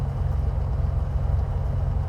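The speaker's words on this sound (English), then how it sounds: "We are idling at 1000 RPM, mixture can come back to idle cutoff." A Beechcraft Bonanza V35 piston engine idles at about 1000 RPM in Microsoft Flight Simulator. It is a steady, loud, low throbbing drone that holds even from start to finish, with no voices.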